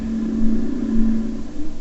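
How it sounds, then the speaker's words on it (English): An experimental stealth helicopter's muted, steady whir with a low tonal hum that swells and fades slightly, fairly continuous and without talk. "This is the sound of an experimental version of a stealth chopper."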